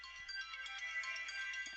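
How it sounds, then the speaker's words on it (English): A phone ringtone plays a short, bright electronic melody at moderate volume, heard in a quiet room while someone is acrylic painting. "It's the phone again."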